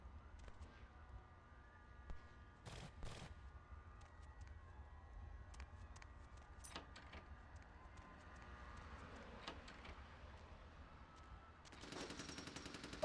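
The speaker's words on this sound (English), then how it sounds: "Oh no, they're shooting." Gunfire in Vampire: The Masquerade - Bloodlines comes as sparse, sharp bursts of shots over a quiet, humming background, with a denser crackle of fire near the end.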